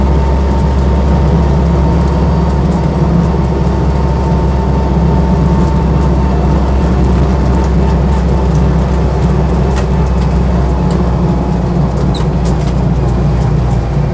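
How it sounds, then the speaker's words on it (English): A Land Rover Lightweight engine rumbles steadily and loudly while driving, a continuous deep drone with constant road and cabin noise and no break throughout. "It's just rumbling along really quite happily"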